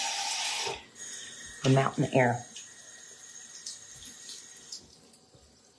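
A tap runs with a steady, hissing gush of water for about a second and then stops, followed by someone speaking close by.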